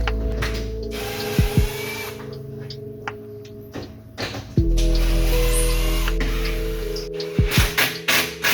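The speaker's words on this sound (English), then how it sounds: "Let's get like a close-up arty shot of a screw coming out" A power tool drives a screw out in close-up, with steady motor whine broken by short ratcheting clicks and brief bursts as the bit grips and spins, loud and near with no talk.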